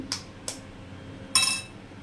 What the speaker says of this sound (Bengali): দিয়ে দেবো 2টো ডিম।